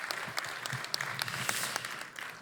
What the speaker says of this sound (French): on fait une salve d'applaudissements pour nos invités